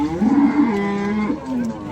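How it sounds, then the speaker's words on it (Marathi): A horned cow gives one long, loud moo close by at a cattle market, its low, drawn-out call wavering before trailing off. "आता पण ही शिंगटी गाय कवर करतोय"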